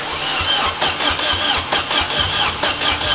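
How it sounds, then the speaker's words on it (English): A Vauxhall Corsa VXR engine cranks over repeatedly with a rhythmic, chugging starter sound, close and loud, without catching. "Then it was ready to give the engine a crank."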